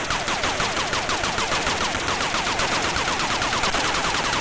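A rapid, steady stream of shots from a helicopter in the Atari ST game Thunderblade, continuous and even, with a chirping electronic rhythm repeating throughout.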